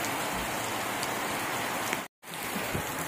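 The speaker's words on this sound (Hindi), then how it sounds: "कितनी बारिश हो रही है हमारे यहाँ पर।" Steady heavy rain pours down in a dense, constant hiss, broken only by a brief moment of silence near the end.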